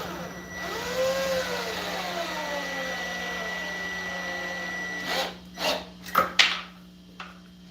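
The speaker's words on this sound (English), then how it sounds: "Big shout out to Chuck for the drill I'm using right now" A Ryobi cordless drill whirs steadily for about five seconds during a DIY solar install in a van, its motor pitch sweeping up and down, then gives several short bursts before stopping.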